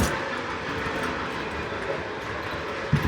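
A model Berkshire steam locomotive runs steadily on a layout, giving a continuous rolling rattle at moderate distance with a brief clunk near the end and no talking.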